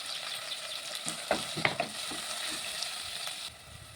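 Ginger garlic paste and dal frying in a pan, a steady bright sizzle with a few scraping stirs and clicks near the middle, easing slightly toward the end.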